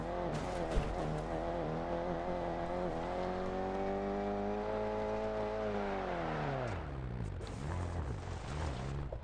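A small, old lawnmower-type motor in a car in DiRT Rally 2.0 drones steadily with a buzzy tone, its pitch rising slightly then dropping sharply near the end.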